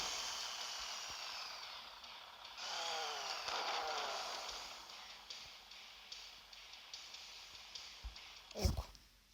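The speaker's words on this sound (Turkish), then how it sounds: "Hele önündeki testereler var ya." A high, whining mechanical drone with rising and falling tonal sweeps from spinning saws on a vehicle in the game Earn to Die, ending in a sharp louder burst near the end.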